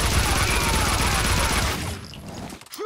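Dense, sustained gunfire rattles loud and continuous in the Max Payne 2 video game, a packed fusillade that cuts off and leaves a quieter tail.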